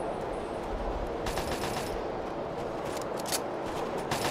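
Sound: gunfire in the Fallout 3 video game (Operation: Anchorage)

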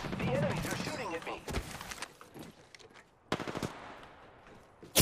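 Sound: enemy gunfire in video game Apex Legends

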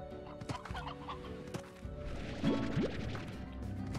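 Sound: chickens clucking in video game Slime Rancher

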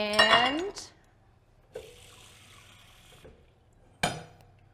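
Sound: pouring water into a dish

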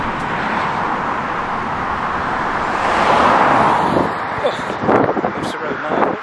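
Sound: traffic on the A24 main road

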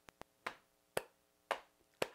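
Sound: slap clapping rhythm

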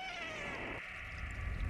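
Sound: cat meowing in video game Stray

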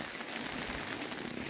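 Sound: hail falling off a tent

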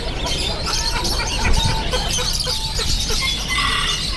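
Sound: Polish chickens clucking

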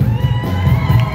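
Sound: audience applauding and cheering for a band member

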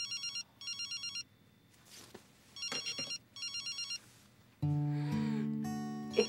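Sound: telephone ringing

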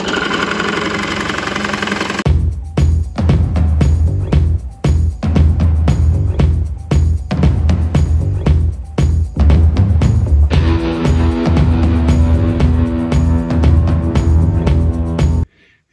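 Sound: drill running at about 700 RPM into clamped wood

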